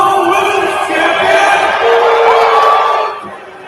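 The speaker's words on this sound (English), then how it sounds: "He's introducing her and they're booing her." A large arena crowd at an AEW wrestling show boos and jeers in a loud, sustained wash of voices that fades toward the end.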